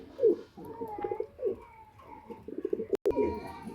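Pigeons kept on a breeding farm coo softly at close range, with several low, rounded calls spread across the clip against a quiet background and one sharp click near the end.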